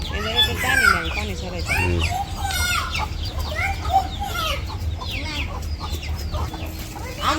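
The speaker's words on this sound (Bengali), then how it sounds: "এই যে মুরগির বাচ্চা" Several chickens cluck and chirp close by, with higher peeping calls of chicks scattered throughout over a low rumbling background.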